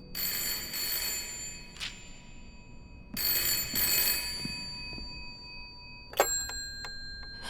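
An old telephone rings at a lighthouse in the horror game Layers of Fear 3. It gives two long metallic bell trills, then short sharp rings after a pause, each clear and close in a quiet room.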